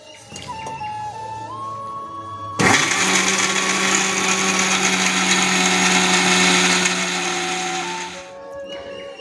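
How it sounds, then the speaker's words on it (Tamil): A kitchen mixer grinder whirs loudly as it grinds sesame seeds, jaggery and rice flour, spinning up sharply to a steady high roar for several seconds before winding down. "அதை கொஞ்சம் கொஞ்சமாக சேர்த்து நம்ம எல்லாத்தையும் அரைச்சி மிக்ஸ் பண்ணிக்கலாம்"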